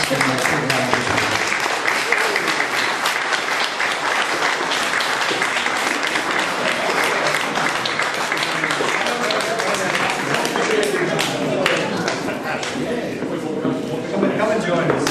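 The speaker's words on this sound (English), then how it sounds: "Let's give them a quick round of applause." Applause and clapping from an audience for a lifeboat crew at a crab and lobster festival launch, a steady dense patter lasting throughout with voices mixed in.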